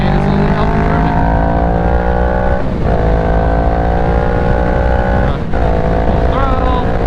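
A Kawasaki Ninja 650 motorcycle rides through twisty turns. The engine note is loud and close and rises in pitch under throttle, then dips and shifts during gear changes, and wind noise runs underneath.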